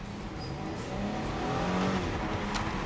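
2020 Porsche Cayenne Coupe engine and exhaust heard with the window down, a moderate steady drone that swells slightly as the car accelerates, fairly quiet overall.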